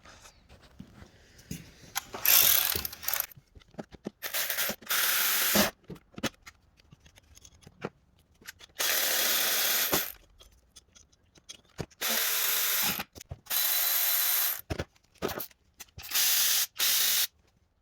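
Socket wrench removing spark plug coil bolts on a 2014 Cadillac CTS 4-cylinder turbo engine: bursts of rapid ratcheting clicks, some a second or more long, separated by quiet gaps and faint handling noises, no speech.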